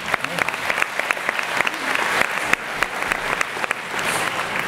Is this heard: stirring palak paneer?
no